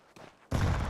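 Flashbang grenade bursting in a Counter-Strike match, a sudden loud broadband blast that jumps in about halfway through and holds as a dense sustained roar, preceded by quieter game noise.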